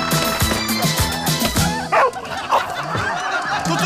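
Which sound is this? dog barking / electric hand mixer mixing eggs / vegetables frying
dog barking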